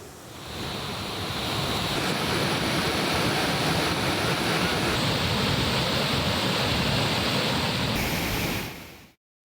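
Huge volumes of water roar out of Mettur dam's floodgates, 65,000 cubic feet released, a steady, dense, loud rushing like heavy surf that holds unbroken before cutting off at the end.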